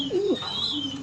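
A Danish tumbler pigeon at a pigeon farm gives one short rolling coo, close and clear, over a faint background hum.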